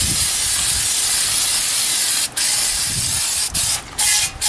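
Alcohol-based brake cleaner sprays in a loud, steady close hiss onto front brake parts of a 2000 Toyota Avalon, broken by a few brief pauses near the end.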